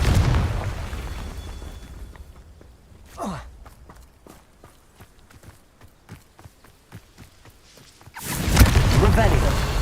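A Confringo blasting spell in Hogwarts Legacy ends in a loud, roaring explosion after a stretch of quick footsteps and a brief whoosh, with a voice calling out over the game sounds.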